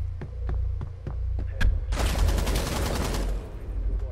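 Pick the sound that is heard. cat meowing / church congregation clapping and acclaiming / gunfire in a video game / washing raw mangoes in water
gunfire in a video game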